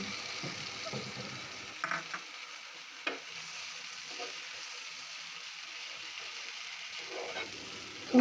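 Spice paste and browned onions fry in mustard oil for a rohu fish curry, giving a soft, steady sizzle with a few louder stirring scrapes and spatters, quiet and close.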